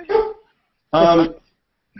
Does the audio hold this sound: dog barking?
yes